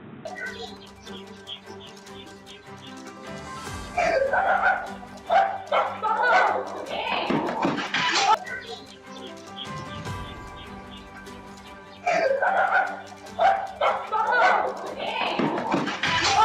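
Stray dogs on a street in Pondicherry bark and yip in repeated bursts, fairly close, with a news presenter talking continuously over them.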